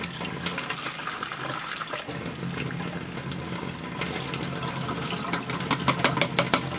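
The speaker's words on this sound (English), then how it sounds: "I'm going to put the seeds back in here, and I'm going to rinse them again." Tap water runs into a container to rinse saved tomato seeds, a close, continuous splashing gush that grows busier toward the end with sloshing and trickling.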